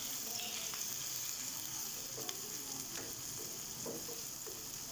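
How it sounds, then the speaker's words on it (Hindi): Steady sizzling of garlic ginger paste frying in hot oil, quiet and continuous, with occasional light clicks and stirring sounds. "उसको भी हम इसी ऑयल में अच्छे तरीके से गोल्डन कर लेंगे"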